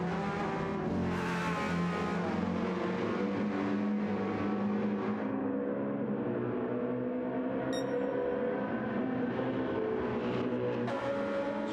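Mercedes and Porsche race cars battle at Le Mans in a World Endurance Championship round, their engines roaring loud and steady with rising and falling pitch as they pass close by.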